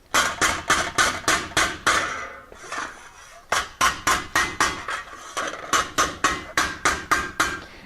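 A small ball peen hammer lightly taps sheet metal in quick, even runs of ringing metallic blows, close and loud, with a brief pause between bursts.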